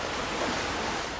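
Steady wash of sea surf breaking on a beach in Alanya, Turkey, a continuous broadband roar with gentle swells in level, fairly close and unbroken, no voices.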